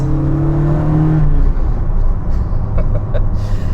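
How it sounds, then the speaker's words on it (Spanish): Porsche 924 Carrera GTS with Bosch mechanical injection and a turbo, engine revving loudly up through the high range with a rising whine, then dropping off into a lower rumble and faint whooshes. "tenemos un turbo que sopla sobre todo en la parte alta del cuentavueltas. Escuchad."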